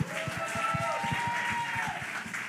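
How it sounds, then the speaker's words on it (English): An audience applauds, a run of rhythmic, fairly close claps with a voice murmuring over them. "Y'all clap it up for Miss Kim"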